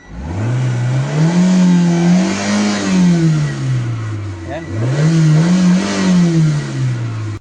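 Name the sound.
car engine starting and revving after repair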